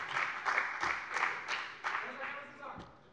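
A parliament plenary chamber erupts in a short round of clapping from the members, a rapid patter of hands that rises and falls over about three seconds with a voice heard in the background.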